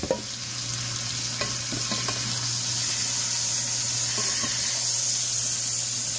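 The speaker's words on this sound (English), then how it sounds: "we're just going to let that sit and sear before we start to crumble this bad boy" Ground beef and sausage sear in a hot pan for a Cajun side dish, giving a steady, close sizzling hiss with a few scattered clicks and scrapes and no talking.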